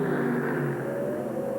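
Ford Thunderbird drag cars launching side by side at a 1984 IHRA drag race in Cincinnati, a steady loud engine roar with a rising pitch, heard from a distance with no talk.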